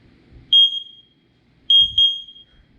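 Sharp, high electronic beeps: one short tone, a pause, then two more in quick succession, loud and clear over a quiet background with faint handling noise.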